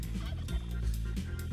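Turkey gobbling in the video game Spelunky 2, a quick run of several warbling gobbles in rapid succession, close and clear with no talking.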